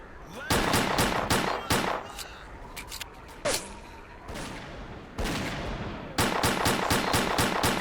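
Rapid gunfire crackles in the S.T.A.L.K.E.R.: Clear Sky shooter game, loud bursts of sharp repeated shots separated by short pauses and single reports.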